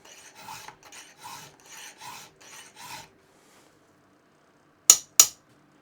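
Hand file rasping across a chainsaw chain tooth held in a precision filing vise in a shed: six short, faint rhythmic strokes, then a pause and two sharp metallic clinks.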